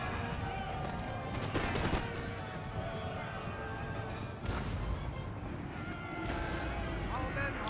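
Booms of 6-pounder horse artillery and musket fire from a Napoleon: Total War battle, several dull blasts and crackling volleys over a constant rumble, with someone talking over them.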